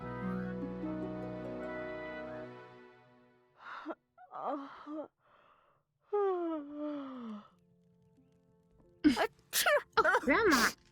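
A character sneezes in the video game Wylde Flowers: a few short, sharp bursts near the end, preceded by soft gasping vocal sounds and backed by quiet game music.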